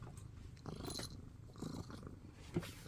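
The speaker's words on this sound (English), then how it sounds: "Can y'all hear her purring?" A cat purrs close by in a soft, continuous rhythmic rumble, steady for the whole stretch with small shifts in loudness.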